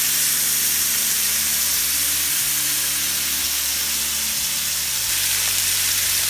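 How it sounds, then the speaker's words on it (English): T-bone steak frying loudly in a hot pan after being flipped, a steady dense sizzle and hiss throughout with no talking. "you pick it up. And you flip it over to the other side"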